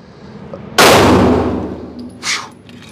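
A single loud, close shot from a Glock 43X pistol on an indoor range, cracking sharply and then ringing away, with a fainter brief clank shortly after.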